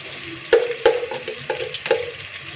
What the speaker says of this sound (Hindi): फ्राई करेंगे और साथ में डालेंगे इसमें लहसुन अदरक का